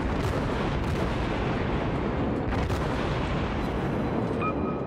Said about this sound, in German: Schieße mal auf den.